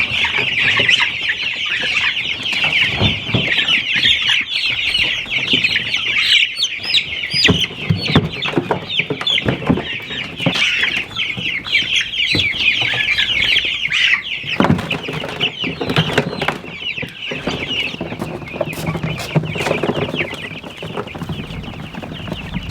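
Many chickens almost three weeks old cheep and cluck continuously in a portable coop, a dense chorus of high peeping close by, with occasional wing flaps.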